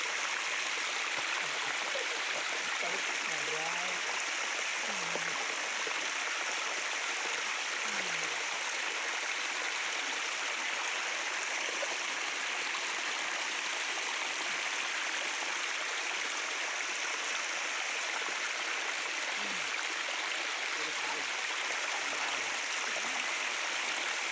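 A forest stream flows down from the hills during heavy rain, a steady broadband rush of water that stays constant and fairly close throughout, with a few faint low bird-like calls and no talk.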